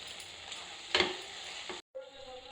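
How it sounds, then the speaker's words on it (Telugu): A spoon stirring boiled mung dal with dry coconut, peanut and garlic powder in a pan, with a soft continuous scraping and sizzle, one louder clatter, then a brief silence before the scraping resumes. "ఇప్పుడు వేసి బాగా మిక్స్ చేసుకుంటాం"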